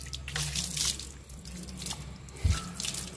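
Water poured onto a bike during a home wash with toothpaste, heard as close splashing drips and trickles with a brief louder splash near the end, no talking.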